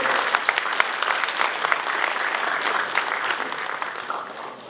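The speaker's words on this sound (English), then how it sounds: "Give a huge applause to you." A large audience claps steadily at a university academic excellence award ceremony, dense continuous applause at an even level throughout with no voices.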